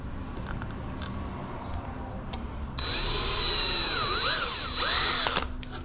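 A power drill whirs loudly, its pitch rising and falling as it bores holes while mounting an e-bike battery, following a quieter stretch of background noise.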